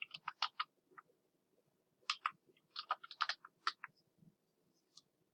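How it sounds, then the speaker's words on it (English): Keys clack on a computer keyboard while text is typed into a Word document, quick bursts of crisp clicks separated by short pauses, close and fairly quiet. "we're going to type Volunteer"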